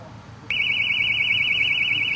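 A building fire alarm set off by an activated sprinkler during a controlled burn, a loud steady warbling electronic tone that starts abruptly and continues over low background rumble.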